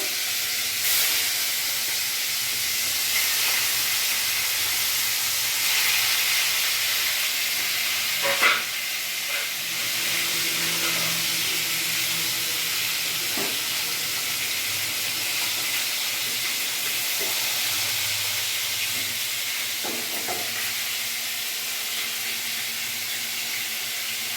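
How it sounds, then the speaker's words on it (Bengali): Pieces of rohu fish sizzling in hot oil, a loud, steady hiss of frying that carries on throughout, with occasional small pops and clinks as more pieces are added. "তেল গরম হয়ে গেছে আমি এক এক করে মাছগুলো ছেড়ে দেবো"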